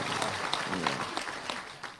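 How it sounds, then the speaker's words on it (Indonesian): An audience at a talk claps in a dense, steady burst of applause that holds at moderate loudness and then begins to thin out. "tepuk tangan kagem Gusipang nih"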